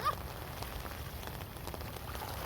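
Outdoor rain falls as a faint, even hiss with soft patters, steady and distant for the whole stretch.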